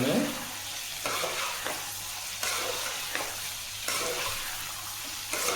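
A spoon stirs cauliflower and chana dal frying in a pan, a continuous close sizzle with several scraping strokes against the pan's surface.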